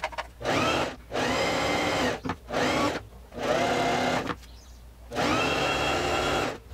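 A straight-stitch sewing machine closes a skirt waistband in four close, loud runs of steady whirring stitches, each about a second long, separated by short pauses.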